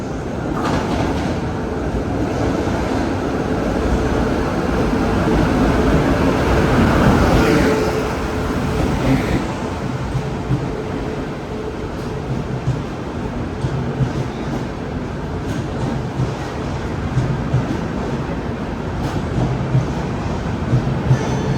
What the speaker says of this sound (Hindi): दुरंतो एक्सप्रेस, वो आ चुकी है रायपुर जंक्शन रेलवे स्टेशन के प्लेटफॉर्म नंबर 1 पे